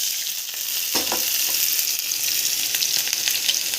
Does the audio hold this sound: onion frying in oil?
yes